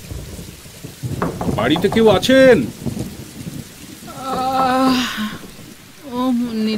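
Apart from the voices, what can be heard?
thunderstorm with heavy rain at night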